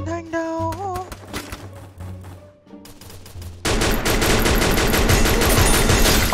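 Rapid bursts of automatic gunfire crackle loudly and densely in the Free Fire battle game, starting with scattered single shots and building into sustained, continuous firing.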